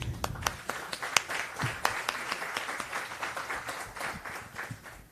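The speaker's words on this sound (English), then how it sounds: "So I just want everybody to give themselves a round of applause." A modest round of applause from an audience at a mobility event with Houston's mayor, scattered individual claps standing out sharply within a lighter, fairly distant patter.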